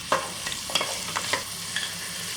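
Onions frying and being stirred in a pan for mutton mandi, a soft steady sizzle broken by several scraping stir strokes, close and quiet, with no talking.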